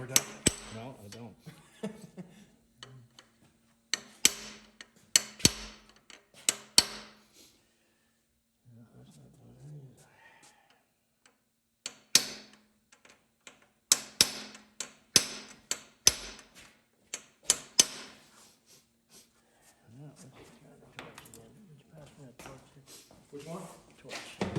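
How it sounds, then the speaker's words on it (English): Hammer blows ring out in loud, irregular clusters of sharp strikes with pauses between, set against intermittent talk from people nearby. "Want a bigger hammer, Doug?"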